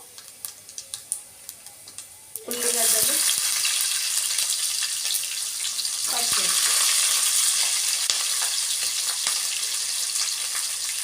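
Onion and green chillies hit a hot pan after cumin seeds for moong dal khichdi, bursting into loud, steady sizzling that swells again midway with scraping stirs, after quiet ticking taps before.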